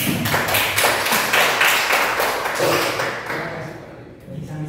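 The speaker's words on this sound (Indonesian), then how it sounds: "Terima kasih, tepuk tangan Bapak Ibu semua." Clapping from a seated audience at an Indonesian mentoring presentation, a dense, even patter of many hands that fades toward the end with a few last claps.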